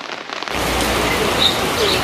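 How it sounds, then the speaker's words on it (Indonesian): Heavy rain pours down in a dense, steady roar that swells after a quieter opening, outdoors near a market. "Hujannya tambah deras, ngiyup dulu."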